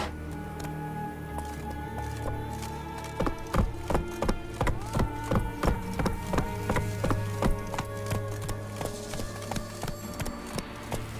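Roach, a horse in the video game The Witcher 3, gallops with a rapid, regular clip-clop of hooves that starts after a few seconds and continues steadily over a background of game music.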